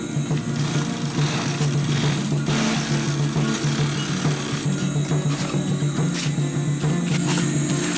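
A sewing machine stitches along the folded top of a fabric sustainment pouch pocket, a continuous close mechanical whir with a fast steady needle rhythm.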